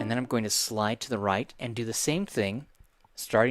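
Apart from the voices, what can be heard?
No everyday noises stand out.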